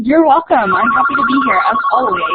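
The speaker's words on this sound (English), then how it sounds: "Sorry about my phone." A mobile phone rings with a steady electronic tone behind a person speaking clearly and close, the ringtone running under the talk throughout.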